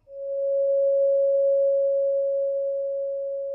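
A clean, steady sine tone generated in Pure Data sounds alone, beginning abruptly and holding at a constant mid pitch, slightly softening toward the end.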